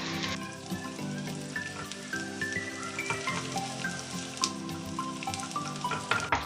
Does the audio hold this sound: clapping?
no